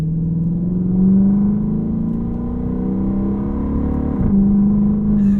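A Dodge Charger Pursuit police car's Hemi V8 engine pulls hard under acceleration, its steady mid-pitched drone rising in revs before a sharp drop near the end as the RPM falls back and climbs again, heard close and alone.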